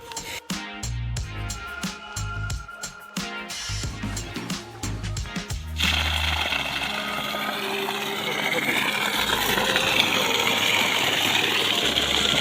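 Water gushing from a running electric motor pump on a farm, a loud steady rushing wash that starts abruptly partway through and continues, after a stretch of rhythmic thumping and someone talking.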